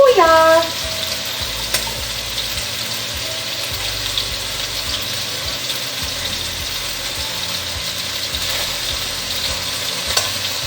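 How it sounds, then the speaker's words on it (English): Meat browning in a pot for plov gives a loud, steady sizzle and crackle that runs unbroken throughout, with a brief voice at the very start. "We're definitely not trying to cook this at all. We're just browning it."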